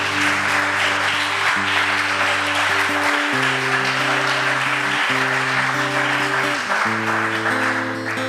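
A church congregation applauds during a worship service, with a broad wash of clapping running underneath sustained keyboard chords that shift throughout.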